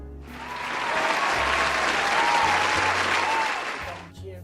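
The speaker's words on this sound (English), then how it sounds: "Cheering for Caesar again." A crowd cheers and claps for Caesar, swelling to a loud, dense roar of applause with a few higher shouts, then fading out, over a low music bed.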